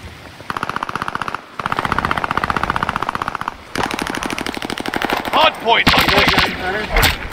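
Rapid automatic gunfire crackles at a hardpoint in the Call of Duty Vanguard video game, sustained loud bursts with short breaks, followed by more shots and game effects as a voice announcer speaks over the action.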